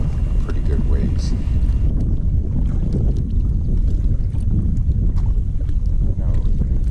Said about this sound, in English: I'm having to cross the pond that I'm in, so I'm having to paddle pretty good ways.